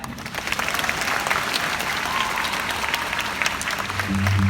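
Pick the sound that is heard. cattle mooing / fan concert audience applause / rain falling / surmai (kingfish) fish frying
fan concert audience applause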